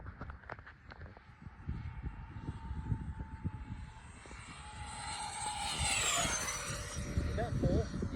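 A Freewing Zeus 90mm 8s RC jet whooshes past, its ducted fan building from a distant hiss to a loud close roar with a sweeping pitch, while people talk over it outdoors.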